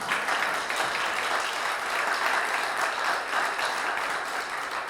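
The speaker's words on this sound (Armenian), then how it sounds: "Ամեն դուր Աստծուն բարձր ծափահարություն։" A church congregation applauds loudly, a dense, steady roar of many hands clapping that holds evenly throughout with no voices over it.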